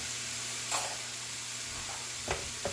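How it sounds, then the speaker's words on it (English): Butter sizzles in a pan for Jamaican stir-fry cabbage, a soft steady hiss punctuated by a few brief clicks and pops toward the end, no one talking. "Gonna add some butter."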